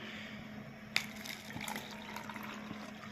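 Water strained off onion and garlic peels that have been soaking, a steady close trickle and pour with a slight splash near the start, with no voices.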